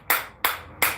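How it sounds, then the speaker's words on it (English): A lone person claps slowly and deliberately, three sharp, close hand claps evenly spaced about a third of a second apart, each with a brief decaying ring and near silence between. "I'm clapping for the world!"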